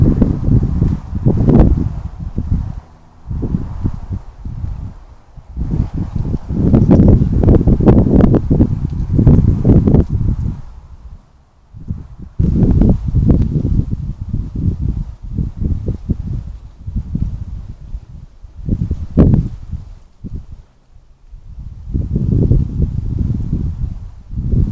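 Wind gusts sweep through December woodland, rustling leaves and branches in repeated surging waves separated by short lulls, fairly close and loud with no voices.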